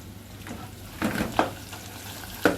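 Koshari ingredients fry in a generous amount of oil, giving a soft steady sizzle with a few sharper bursts of crackling as they are stirred, close and alone.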